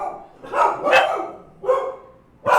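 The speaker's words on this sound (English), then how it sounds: "I have 3 dogs at the moment, so they like barking, talking with their neighbors and stuff." Three pet dogs bark indoors in a series of loud, close, ragged barks with short gaps between them, the last one cut off at the end.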